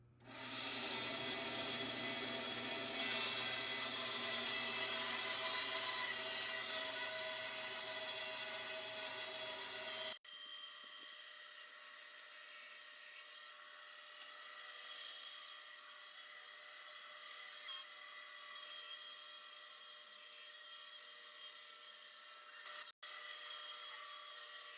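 A power saw cuts wood for an epoxy bowl, a loud steady whine with rasping that shifts to a thinner, higher tone partway through, with no voices.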